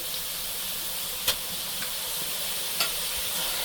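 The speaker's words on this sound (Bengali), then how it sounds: "আমি এখানে প্রথমে পেঁয়াজ দিয়ে দিচ্ছি" Onions frying in hot oil for an ilish fish curry with green banana, a steady close sizzle and hiss, punctuated by a couple of faint clicks.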